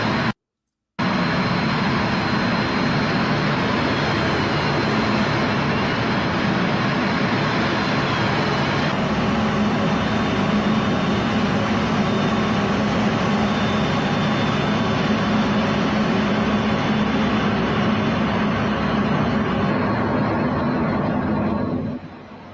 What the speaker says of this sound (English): This is really cool Blue Angel footage from inside the cockpit.